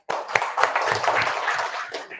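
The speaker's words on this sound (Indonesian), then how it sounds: "kita beri tepuk tangan dulu." A short burst of scattered hand clapping from a small group in a classroom, brisk and close, fading out after a couple of seconds.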